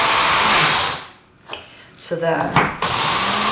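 Spices being ground for a meatloaf in a kitchen: a short, close, gritty rasping grind in brief bursts, with someone speaking over part of it.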